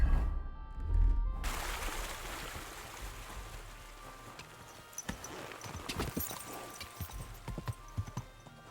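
After a brief burst of noise, horse hooves clop at an unhurried pace in Kingdom Come: Deliverance II over a soft, flowing background, moderately close.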